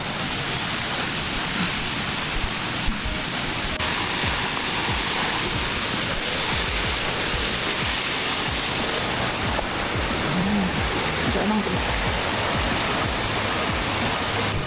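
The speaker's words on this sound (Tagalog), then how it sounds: "Yan yung falls pero uupo muna ako dito." Waterfall on the trail near Moraine Lake and Lake Louise pours in a steady, loud broadband rush that fills the whole scene without pause.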